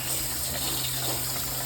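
Hot water rushing steadily through the filter pump line of a Frymaster commercial fryer during a flush, a constant close, loud gushing with no pauses and no talking.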